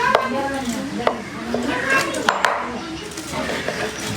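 Tomatoes chopped on a board for biryani, with sparse knife taps spaced irregularly under nearby conversation that runs almost throughout.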